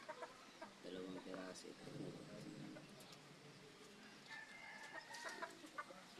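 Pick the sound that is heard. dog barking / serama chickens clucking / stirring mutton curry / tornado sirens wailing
serama chickens clucking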